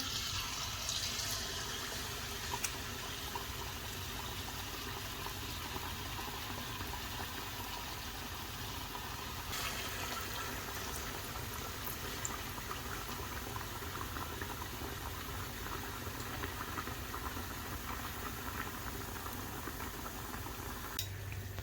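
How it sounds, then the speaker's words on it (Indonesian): Tempeh mendoan sizzling in hot oil, a steady, fairly quiet bubbling hiss that holds evenly throughout with no voices over it. "Nah, minyaknya sudah panas, lalu kita masukkan tempenya."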